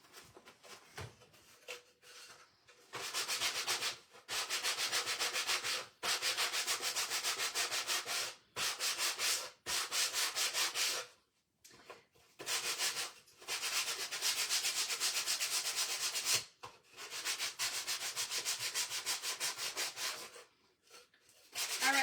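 Sandpaper on a block rubs back and forth in long rasping strokes, repeated steadily with short pauses between passes.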